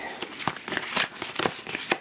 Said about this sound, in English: We're going to give them a shuffle.